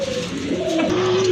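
A pigeon at a breeding farm gives a short, throaty coo, close and clear, alone against a faint background hum.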